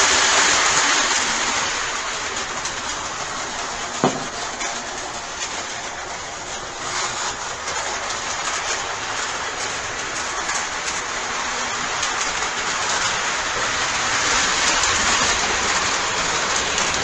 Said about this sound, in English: that's too fast for a freight train